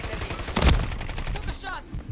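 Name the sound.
gunshots fired in a video game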